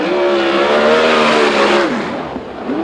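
A 410 sprint car qualifying on an oval track at the USAC Oval Nationals roars loudly at high revs, its engine note holding steady and then dropping in pitch as it passes and fades slightly.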